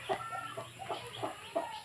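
A breeder chicken clucks close by in a run of about six soft, short clucks spread evenly over two seconds, against a faint steady background hum.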